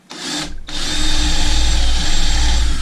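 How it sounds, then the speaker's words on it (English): A power drill whines up loudly after a brief start-stop, then bores holes in plywood steadily with a high motor pitch and low grinding rumble. "let's kind of drill us some holes"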